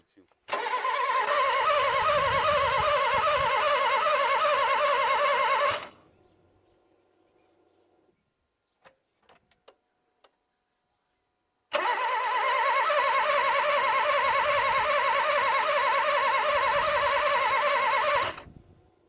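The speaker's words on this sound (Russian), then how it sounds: "Итак, двигатель у нас заводиться отказывается." Car engine cranking loudly and steadily for several seconds without catching, then a pause with faint clicks before another long cranking attempt; the engine is being restarted after a LAVR ML-203 decarbonizing treatment with the spark plugs and coils refitted.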